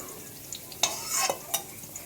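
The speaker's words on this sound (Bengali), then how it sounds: "একটু হালকা লাল লাল করে ভেজে নেব কাঁকরোলগুলো" Soft sizzle of pointed gourd frying in oil, with a few brief clinks and scrapes of a utensil against the pan; no talking.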